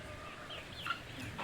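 Chickens on a pig farm, pecking at feed spilled by the pigs, give a brief burst of soft clucking over a low steady background.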